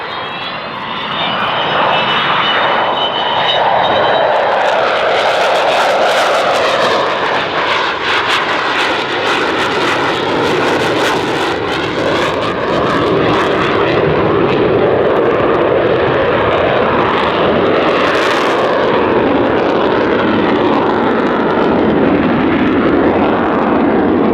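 A loud, roaring Avro Vulcan four-jet bomber passes overhead at an airshow display, its engine rumble and hiss sustained and filling the air throughout, with no voices.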